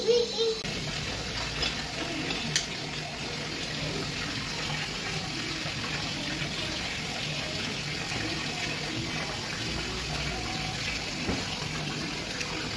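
Shower water runs steadily as a hiss throughout a child's bath, with a voice faintly audible beneath the spray.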